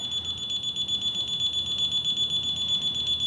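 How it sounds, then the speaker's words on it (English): A test device aboard a 1967 Mooney aircraft gives off a steady, continuous high electronic beeping tone, loud and close, with no break across the whole stretch. "I'm gonna go in the direction it's beeping quite a bit"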